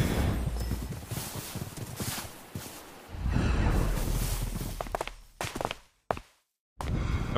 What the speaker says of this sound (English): Why is there just a skeleton horse over here?